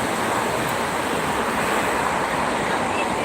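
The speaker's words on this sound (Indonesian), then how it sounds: "Anginnya kencang tuh." Strong wind buffets the microphone beside the Jakarta-Cikampek toll road near km 57, making a continuous loud broadband rush with no breaks or voices.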